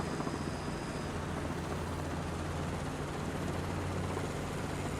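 In a video game, a helicopter flies with the throttle down, giving a steady dense rotor and engine drone with a low pulsing thump, loud and unbroken for the whole stretch.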